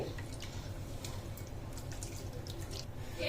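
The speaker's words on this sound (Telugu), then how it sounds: "మనము అటుకుల్ని ఒకసారి బాగా క్లీన్గా వాష్ చేసి పెట్టుకుందాము" Water swishes and trickles in a bowl as poha (flattened rice) is rinsed, a quiet, steady wet wash with small splashes and no talking.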